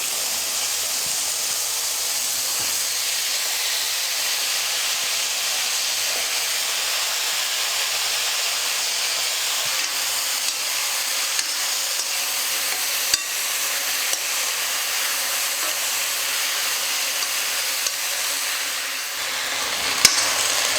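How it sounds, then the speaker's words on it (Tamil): Eggplant and raw mango sautéing in a pan for a spicy tamarind kara kulambu, giving a steady, close sizzling hiss that runs unbroken throughout with no talking. "கத்திரிக்காய் மாங்காய் ஒரு 2 நிமிஷம் நல்லா நான் வதக்கிக்கிட்டேன்."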